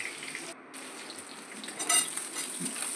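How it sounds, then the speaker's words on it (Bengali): Pointed gourd (potol) frying in oil, a soft, fairly quiet sizzle with faint crackles and a few stirring scrapes, briefly louder partway through. "পটলগুলো বেশ লাল লাল করে ভেজে নেব।"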